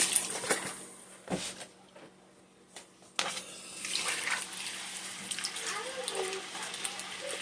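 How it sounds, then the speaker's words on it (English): Beef broth pours into a hot pan for stew, giving a soft, faint liquid splash and sizzle that settles into a quiet steady simmer, with no talk over it. "I'm going to add a cup of broth in"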